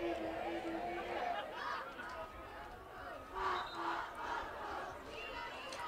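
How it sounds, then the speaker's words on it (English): A high school football stadium crowd and student section cheer and shout throughout, a steady distant roar with rising swells of yells, while a commentator talks over it. "The crowd really getting into it."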